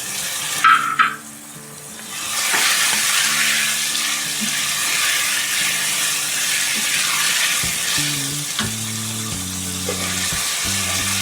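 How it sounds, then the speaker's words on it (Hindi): Chicken liver frying in a pan with red chilli powder, crushed red chilli and salt, a continuous loud sizzle with clatter and scraping of the spoon, briefly louder near the start. "अब इसमें हम 1 खाने का चम्मच लाल मिर्च पाउडर और कुटी हुई लाल मिर्च 1 खाने का चम्मच और नमक डाल के इसको फ्राई करेंगे"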